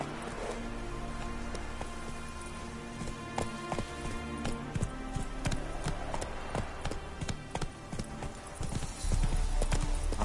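Roach, Geralt's horse in The Witcher 3, trots along with crisp, evenly spaced clip-clop hoofbeats close up, over a layer of game ambience and a faint hiss like rain, growing louder near the end.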